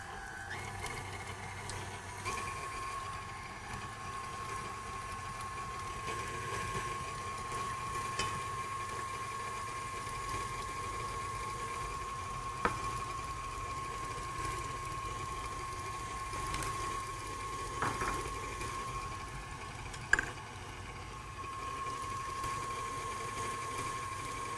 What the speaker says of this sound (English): I like that KitchenAid, very quiet. It's not noisy as some Yeah, I love the KitchenAid. blenders can be.